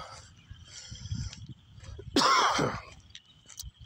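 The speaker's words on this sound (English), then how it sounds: "sorry, I'm still coughing." One short, rough cough comes up close over quiet room noise, preceded by faint murmuring.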